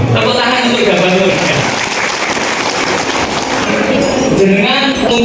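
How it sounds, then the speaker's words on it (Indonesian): Audience applause at an Indonesian madrasah parenting event swells into sustained loud clapping, while a voice carries over the room through the middle of the burst. "Tepuk tangan untuk Jabal Nur."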